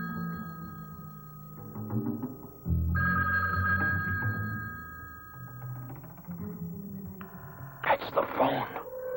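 A telephone rings with a sustained bell-like trill in a 1971 film scene, heard amid voices and background sound, with a second brighter burst of ringing near the end.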